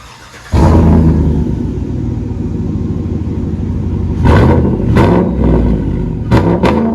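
A 2018 GMC Sierra with a 6.2L supercharged V8 and dual exhaust on straight pipes, muffler removed, bursts into a loud, deep rumble, then gives several sharp revs in quick succession near the end.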